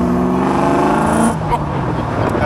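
Fuel-injected twin-plenum MGB sports car engine revving hard at an MG centenary event at the British Motor Museum, a loud, close, continuous roar that dips slightly toward the end.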